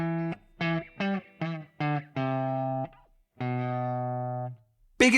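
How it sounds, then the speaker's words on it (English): Electric guitar riff played with steady downstrokes, a run of short chugged notes climbing and falling before two longer sustained chords ring out, distorted and close, with no talking. "And if I play that whole thing through,"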